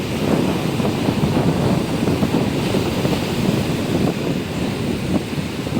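Steady roar of surf washing in, mixed with wind buffeting the microphone, continuous and fairly loud with no voices.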